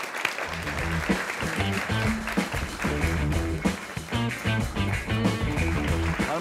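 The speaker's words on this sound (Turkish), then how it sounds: "Alkışlıyoruz." A studio audience at a Turkish late-night talk show applauds. Quick, busy clapping runs under rhythmic band music for several seconds at a moderate, even level.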